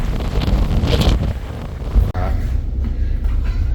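Strong wind buffets the microphone on the open deck of the Interislander ferry, a loud, continuous rumbling roar with a brief dropout midway.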